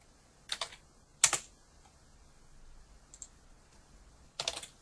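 A few scattered computer keyboard keystrokes while entering characters into a naming program: three sharp, close clicks spaced apart over a quiet background, with a faint tap in between.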